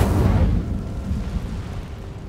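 Incendio fire spell cast in Hogwarts Legacy, a sudden whooshing burst of flame that starts loud and close, then fades into a lower crackling rumble.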